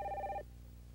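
A telephone rings once briefly and moderately loud indoors, its bell tone cutting off partway through, leaving a low hum beneath.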